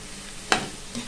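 Carrots and beans cook in a pan with a faint, steady background sizzle, broken by one sharp scraping stir near the middle and a softer one just before the end.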